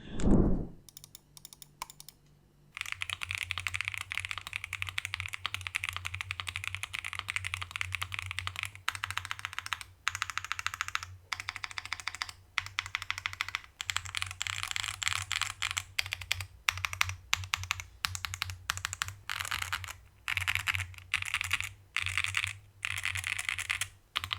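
Continuous mechanical keyboard typing, close and fairly quiet, with rapid soft clacks in uneven bursts and brief pauses over a low background hum.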